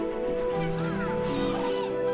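Aggressive domestic farmyard geese honking at cranes in a Chinese wetland, repeated loud nasal honks close by over a steady background, no talk.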